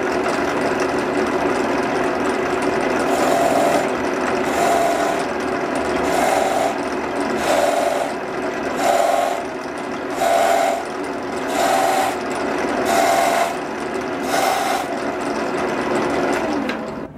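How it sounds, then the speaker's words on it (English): A woodturning lathe hums steadily as a tool cuts small ridges into a spinning wooden sanding disk, with a repeating scraping rasp rising and falling every second or so over the constant drone. "Now what I'll do is I'll just put a few little ridges in here just for the glue to sit."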